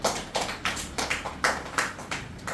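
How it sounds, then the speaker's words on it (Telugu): A small group claps for a student's exam result, a close run of about eight evenly spaced, crisp hand claps keeping a steady beat. "claps for rayon"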